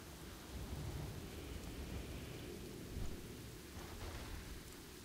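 Steady rain falls in Gilneas, a rain-soaked zone in World of Warcraft, with a low rumble of thunder swelling near the three-second mark; the storm is continuous and moderately loud, and no voices are heard.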